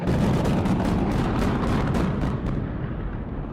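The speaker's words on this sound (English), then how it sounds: "Then, with a ground-shaking blast, the explosives leaped into action. A chorus of booms echoed and the earth trembled." Demolition explosives blast at the Silverdome stadium, a loud, rumbling chorus of booms rolling together into a continuous deep roar that slowly tapers off, heard alone without voices.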